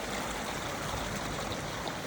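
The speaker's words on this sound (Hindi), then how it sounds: "ये झरना है जो बहुत ही साफ़ और सुथरा पानी इसमें बह रहा है" A forest waterfall carrying clean, clear water makes a steady, close rushing wash that continues without a break, with no voices over it.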